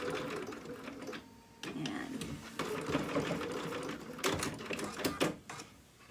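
A home sewing machine stitches a dog costume in rapid mechanical bursts, stopping and restarting several times, loud and close with a steady whirring hum between short pauses.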